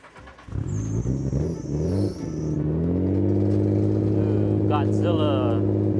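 Nissan GT-R "Godzilla" at a cars and coffee meet, engine blipped in rising and falling revs, then settling into a loud steady drone, with a voice speaking nearby.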